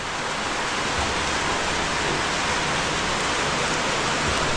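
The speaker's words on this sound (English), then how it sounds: "Raining for 4 straight days, for most of the time." Steady, dense rain pours down during a days-long storm on a rice farm, a constant loud hiss that fills the whole stretch with no break or voices.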